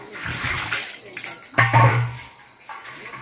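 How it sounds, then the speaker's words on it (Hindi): Water pouring into containers outdoors in a Garhwal village, a steady close rush with a louder splashing surge midway before it eases. "ये पानी भर रहे हैं यहाँ पे"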